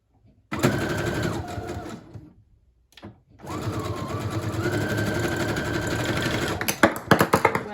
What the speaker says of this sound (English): now I'm just going to go ahead and sew on the closure about halfway down the cover.